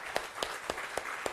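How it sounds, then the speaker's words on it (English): An audience claps in a steady, evenly spaced rhythm, five sharp claps in quick succession at a startup bootcamp session for Sri Lankan youth, fairly faint and without talk. "Let's go very big round of applause again."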